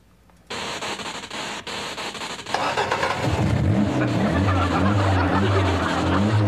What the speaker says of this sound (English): She's gonna jumpstart Dad's car.